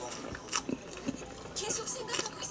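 Someone bites into and chews a CU convenience-store double barbecue burger, with soft close crunching and chewing sounds; a voice speaks in parts.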